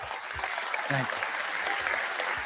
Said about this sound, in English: And look, the crowd starts applauding.